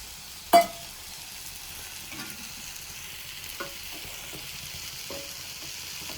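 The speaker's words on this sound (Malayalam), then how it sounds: "പുളിവെള്ളം ഒഴിച്ചു കൊടുത്തു." Tamarind water is poured into a pan of Palakkad-style horse gram curry, giving one brief splash followed by a quiet, steady sizzle with a few faint stirring clinks.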